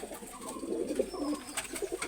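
Pakistani prince kamagar pigeons coo softly in a short, low burble of repeated calls, fairly close but quiet, with no talking.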